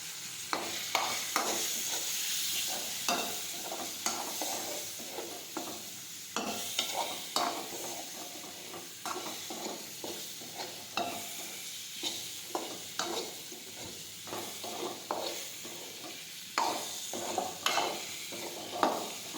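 Gram flour being stirred and fried with bitter gourd in a pan: steady soft sizzling runs throughout, broken by frequent scraping strokes of a spoon against the pan in an uneven rhythm, quiet and close, with no talking.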